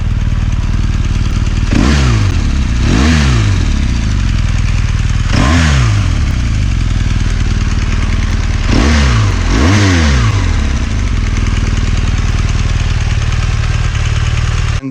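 A 2013 BMW R1200 GS-A motorcycle engine runs steadily and loud from close by, with several sharp throttle blips rising and falling over a constant low drone and no speech.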